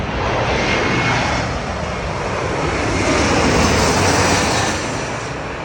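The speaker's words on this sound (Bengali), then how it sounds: "তিন মিনিটের ভিতরে আমি হচ্ছে সাতটা প্লেন দেখলাম নামছে" A passenger airplane coming in to land at LaGuardia Airport, heard from a park beside the runway approach, gives a loud, close, sustained jet roar that swells slightly and holds for several seconds without any talking.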